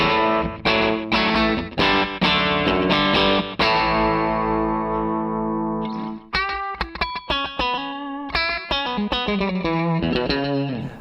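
Electric guitar run through an Empress Echosystem delay pedal, distorted chords and single notes with fast repeats smearing into a reverb-like wash, loud and continuous, with a held sustained chord in the middle before choppy staccato phrases.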